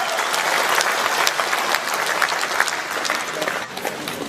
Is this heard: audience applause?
yes